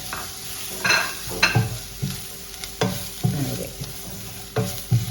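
Ground spice powders (coriander, pepper, turmeric) sauté with soya chunks in a pan, a soft sizzle under repeated scraping stirs of a spoon against the pan, close and fairly loud with irregular strokes.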